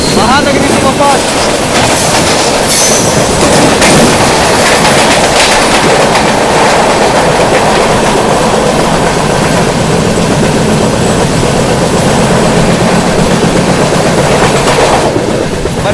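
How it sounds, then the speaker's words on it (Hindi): The Banaras–Chhatrapati Shivaji Maharaj Terminus Mahanagari Superfast Express thunders past at a crossing with a loud, steady roar and rapid clickety-clack of wheels, heard up close from an adjacent train for the full duration. "चलिए अब आप लोग क्रॉसिंग दिखाते हैं बनारस छत्रपति शिवाजी महाराज टर्मिनस महानगरी सुपरफास्ट के साथ।"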